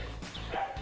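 Dogs give a couple of quick, close yips and barks outdoors in a yard, brief and fairly loud against a low background hum.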